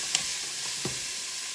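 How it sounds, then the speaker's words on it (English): Chicken with rosemary sautéing in a pot makes a steady, close sizzle, with a brief utensil tap near the start and a soft stir partway through. "So sauteing for about 2 minutes, maybe 3."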